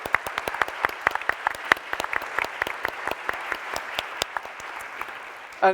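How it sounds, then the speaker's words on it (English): An audience at the closing plenary of a forum claps steadily for several seconds, a dense patter of many hands with a few sharper individual claps standing out, moderately loud with no voices. "Should we give a big round of applause with the audience?"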